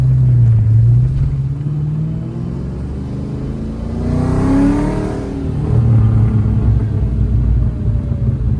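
A 1994 Ford Mustang GT with a 5.0L HO V8 and a performance exhaust rumbles deeply while driving. The engine swells into a louder rev midway, then settles back to a steady close drone.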